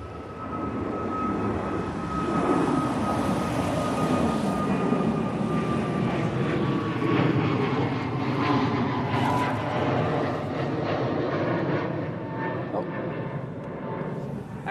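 An Antonov 124 cargo aircraft takes off at East Midlands Airport, its jet engines roaring loud and steady with a rising whine that lasts throughout, and a person talks over the noise.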